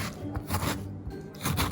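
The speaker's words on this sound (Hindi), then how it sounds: "मीडियम साइज की एक पूरी प्याज ले लें, तो इसको भी आप ऐसे मोटा सा स्लाइस कर लें" A knife cuts thick slices through a whole medium onion on a board, a few crisp chopping strokes in a short irregular rhythm, close and clear.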